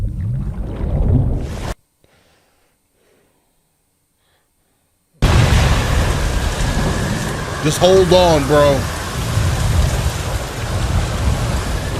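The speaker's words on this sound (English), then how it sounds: "And of course, it's a sea storm happening also." Sea storm from the film Cast Away, with heavy rain and rumbling thunder filling the mix after a silent gap, a loud crashing surge midway, and someone talking over it.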